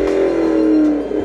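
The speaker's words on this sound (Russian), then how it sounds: "включим моторчик, и ты немножко погазуешь, чтобы люди поняли, что здесь как бы V8" Volvo XC90 with a 4.4-litre Yamaha V8 held at a steady loud rev, a strong even engine drone close by that sags slightly toward the end, no talk over it.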